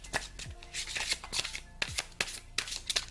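Oracle cards of standard size being shuffled close by, with a quick series of papery riffles and slides in uneven bursts and no talking.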